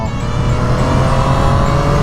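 A Triumph Street Triple 765 RS 2020 three-cylinder motorcycle engine drones steadily at high revs, a constant loud buzzing hum close to the listener with no pauses.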